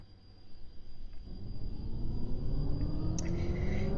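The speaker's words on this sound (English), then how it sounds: "This train is about to depart." A simulated London Underground Northern Line train pulls away from a station in the OpenBVE train simulator, a low rumble building steadily with a rising motor whine, faint and close-miked, under a constant high fan tone.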